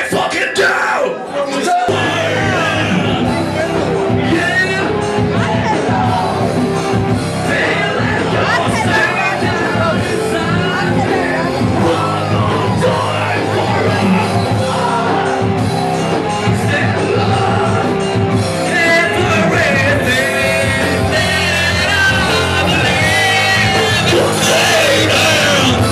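A concert crowd screams and yells continuously and loudly, a dense roar of voices with whoops and shouts, while a performer's voice calls out over it.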